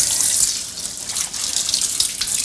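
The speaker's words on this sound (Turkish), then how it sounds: "Onun için döküp fazla suyunu alıyorum." Water from boiled couscous poured off into a sink, a steady close splashing stream with bright hiss throughout.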